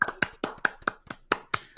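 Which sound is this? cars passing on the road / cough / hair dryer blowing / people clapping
people clapping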